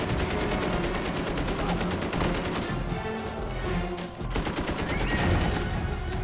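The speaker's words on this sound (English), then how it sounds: "he fearlessly swings the 50 caliber machine gun into action" An M2 .50 caliber machine gun fires in rapid sustained bursts, a dense rattling stream of heavy shots with a brief lull before firing resumes, loud and close.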